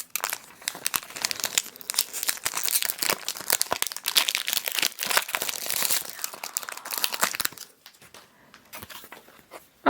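A Japanese Pokemon trading card booster pack is torn open, its foil wrapper crinkling and crackling loudly up close in dense bursts before the sound thins out near the end.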